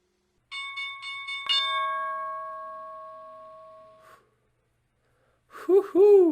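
Closing bell of the stock market ringing in a sustained, clear metallic tone that holds for a few seconds and fades, followed after a short silence by a loud excited voice.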